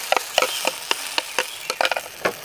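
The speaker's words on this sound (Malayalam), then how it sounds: "അപ്പോൾ അതിലേക്ക് നമുക്ക് ആ ഭംഗിയുള്ള ഓംലേറ്റ് അടിച്ചു വെച്ചിരിക്കുന്ന മുട്ട അങ്ങ് നമുക്ക് ഒഴിച്ചങ്ങ് കൊടുക്കാം." Beaten egg for an omelette poured into hot oil, a close crackling sizzle broken by sharp spatters and pops at irregular intervals.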